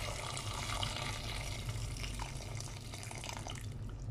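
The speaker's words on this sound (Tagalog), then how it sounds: "Lagyan ng tubig." Water poured into a cooking pot holding chicken pieces with the neck, a soft continuous splashing and trickling close by, fairly quiet, with no talk.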